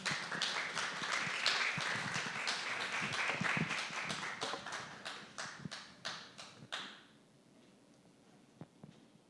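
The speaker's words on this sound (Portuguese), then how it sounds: "Recebamos nossos convidados com uma salva de palmas, por favor." Audience clapping to welcome guests at a literature talk, a fairly loud burst of applause that thins into scattered individual claps and fades out, leaving a few isolated taps near the end.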